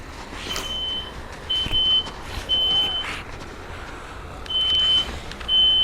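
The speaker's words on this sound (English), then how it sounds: "And I got a fire alarm coming off my house." A house fire alarm in the zombie survival game H1Z1 sounds as repeated high electronic beeps in short bursts over a steady, noisy game background.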